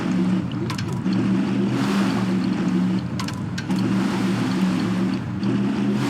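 Boat engines in the building game Trailmakers drone with a low, buzzing motor hum that repeatedly cuts out and kicks back in, sputtering as the propellers leave the water, with a faint splashing hiss between bursts.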